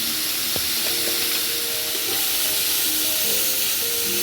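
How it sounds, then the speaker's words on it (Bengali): Ridge gourd (chichinga) frying in a pan with salt and turmeric, giving a loud, constant close-up sizzle and hiss with faint occasional clinks, no voices. "চিচিঙ্গাটাকে আমি ভালো করে ভেজে নেব।"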